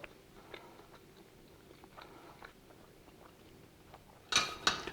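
Fried turkey, cooked in a Waring Pro rotisserie turkey fryer, is chewed quietly and close for a few seconds. Near the end come sharper crunchy bites with a faint clink of cutlery.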